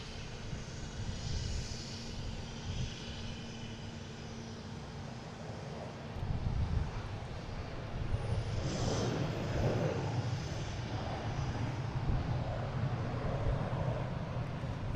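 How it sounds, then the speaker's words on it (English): A Delta Airbus A321 airliner on flight 726 arriving at Boston Logan from Atlanta, a faint distant engine rumble that swells partway through and stays steady, with no talking. "And we get a Delta coming in from Atlanta."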